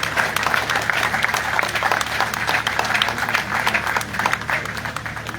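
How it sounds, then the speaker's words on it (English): An audience at a district office commissioning ceremony in Moyamba applauds the President, sustained clapping from a crowd filling the space. "we now make we clap for the President"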